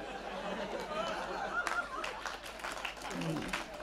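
Audience applause at a Hindi poetry recital, a brief burst of clapping from a live crowd that rises suddenly and fades under murmuring and a voice.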